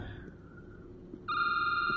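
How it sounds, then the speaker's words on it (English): A telephone rings in a video game, a bright electronic trill that starts suddenly partway through and holds steadily over a quiet background. "Oh, phone's ringing"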